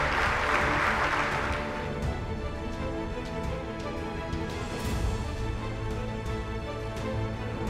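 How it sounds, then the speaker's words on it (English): An audience gives a round of applause at a veterans' employment event, a fairly quiet spatter of clapping strongest at the start, with sustained tonal music or hum running underneath. "We could just give him a round of applause"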